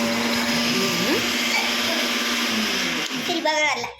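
A kitchen mixer grinder whirs loud and steady at close range for several seconds, then cuts out near the end as a voice chatters briefly.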